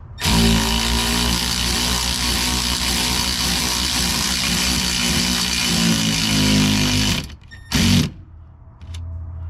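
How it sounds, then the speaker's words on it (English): A power tool with a 5/32 Allen socket drives a bolt on under-seat storage for a Tundra CrewMax, whirring loudly and steadily for about seven seconds, then stopping, followed by one short burst. "I'm just going to take and tighten this down until it slows down."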